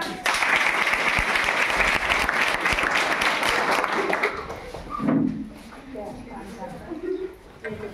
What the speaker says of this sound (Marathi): ये दिदी या मागच्या मुली टाळ्या वाजवा.